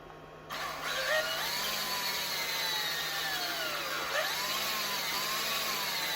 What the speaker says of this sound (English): we must drill a little hole